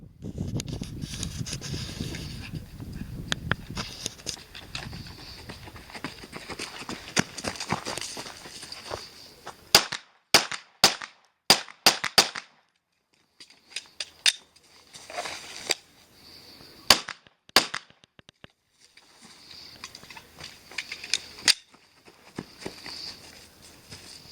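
An airsoft gun fires a quick string of sharp, dry clicks and snaps, bunched in bursts with short gaps between them, over a faint outdoor background.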